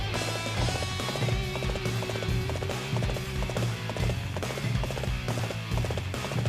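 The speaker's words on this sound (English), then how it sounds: "It's a slightly different horse" Horse hooves gallop in a steady clip-clop rhythm through Dynasty Warriors 8, loud and continuous under dense battle music and game noise, with a faint whinny-like tone.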